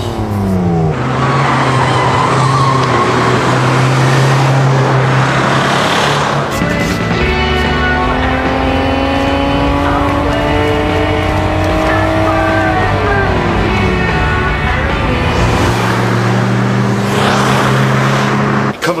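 An old car that could not pass its MOT is driven hard in a chase, its engine revving loudly throughout with rising and falling gear changes and tire noise, close and continuous with no talk.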